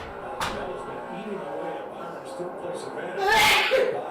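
A single sharp sneeze bursts out during a NASCAR Cup Series race broadcast at Phoenix Raceway, loud and close, while a commentator keeps talking over the coverage.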